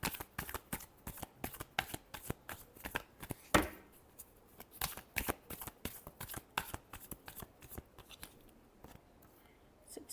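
Tarot cards being shuffled by hand up close, a quiet, rapid series of crisp riffling and slapping bursts with brief pauses between them, no talking.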